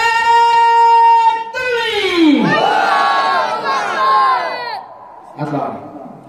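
A large crowd at a gathering on the Battle of Badr roars the takbir, Allahu Akbar, in a loud massed chant of voices that swells, breaks off and repeats in shorter bursts.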